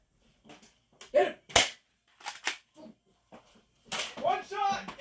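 Nerf blasters fire during an outdoor Nerf war, giving several sharp, snappy shots spaced apart among excited shouting voices.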